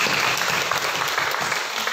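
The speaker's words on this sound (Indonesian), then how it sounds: "kita beri tepuk tangan" A church congregation at Gereja Immanuel in Pontianak applauds in a steady, even wash of many hands clapping at once, with no break and no voices on top.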